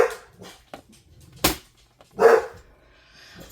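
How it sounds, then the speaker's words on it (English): Dogs barking indoors in a home, a few scattered sharp barks and yips with pauses between them, fairly close and loud, with no voices over them. "They are barking at the wind."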